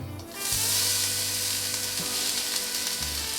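Chopped green onion drops into hot vegetable oil and breaks into a loud, close, continuous sizzle that holds steady without any talking.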